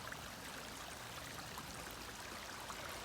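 Creek water flows steadily through a forest on a homestead, a continuous close, even rushing and trickling wash with no talk over it.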